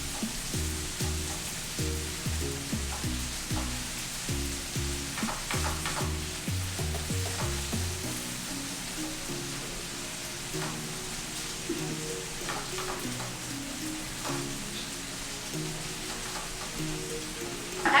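Bacon pieces sizzling in a skillet for a home breakfast, a constant close crackle and spatter with rhythmic scraping as they are pushed around, over low background music.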